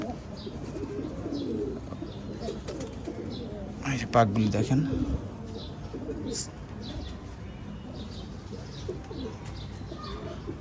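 Ferozpuri pigeons coo softly and intermittently in the background while someone talks over them.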